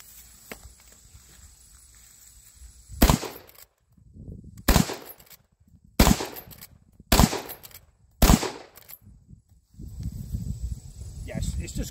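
Marlin 336 30-30 lever-action rifle firing outdoors, five loud sharp shots spaced a second or so apart, each with a quick echoing tail and clacks of the lever cycling between them.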